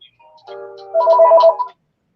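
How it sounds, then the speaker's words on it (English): Ringtone of an incoming phone call, a short electronic melodic chime that swells louder for about a second, then stops, heard alone. "Call from Elton Brook"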